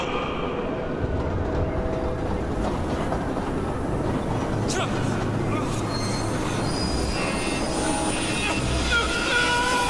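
Train in the video game The Spectrum Retreat, a continuous loud rumble with screeching, squealing wheel tones and faint clicking, steady across the whole stretch.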